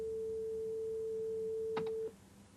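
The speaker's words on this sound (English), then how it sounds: "we have a sine wave. It's actually at 440 hertz" A steady, pure 440 Hz sine tone at concert A holds for about two seconds, then stops abruptly, leaving a faint hum.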